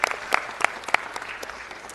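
A room at a city council meeting claps for the co-facilitators, a moderate, fairly thin round of applause with several sharper individual claps standing out.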